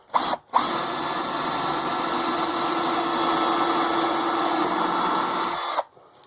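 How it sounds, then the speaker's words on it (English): A Black & Decker power drill runs steadily and close by for about five seconds, with a brief burst just before, then cuts off, during work on a wooden camera tripod. "Here's my Black & Decker drill."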